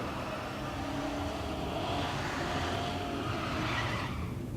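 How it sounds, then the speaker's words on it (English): An LT-powered fourth-generation Camaro drag car does a burnout at the strip, a dense continuous roar of spinning tires and engine held steady and loud for several seconds. "There's Mike Mead completing his burnout, the LT-powered 4th-gen Camaro in the right lane."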